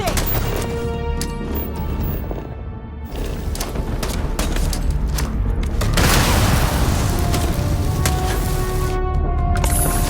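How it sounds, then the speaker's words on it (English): Gunfire erupts in the video game Starfield, loud booms and sharp shots crowding together in a chaotic fight that grows denser partway through. "Just shoot everything!"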